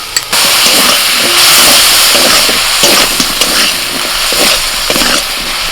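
Potatoes frying in a pan with garlic and ginger paste give a loud, steady sizzling hiss with small crackles and stirring scrapes close by, starting just after a brief quiet moment.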